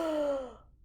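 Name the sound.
big breath blown out, imitating the wolf huffing and puffing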